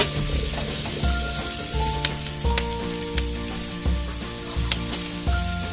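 Onion and garlic sautéing in a pan, a continuous loud sizzle and crackle close up, broken by rhythmic low thumps and scrapes of a utensil moving the pieces around.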